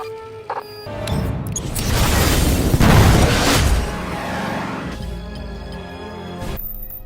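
A deep boom of a computer exploding swells into a rumbling blast lasting a few seconds, then fades into a quieter tail.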